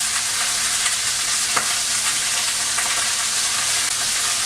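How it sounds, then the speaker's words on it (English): Steady, bright sizzling of chicken searing in a hot pan, a continuous crackling hiss with occasional small pops and no voices. "I'm going to sear the chicken well on one side, then on the other."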